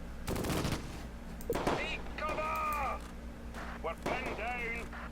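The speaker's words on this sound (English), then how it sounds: "There we go, another shot from our tank." Tank cannon shots in the Close Combat World War II strategy game, Gateway to Caen, loud sharp blasts repeating in a busy battle mix with metallic ringing tones between them and voices underneath.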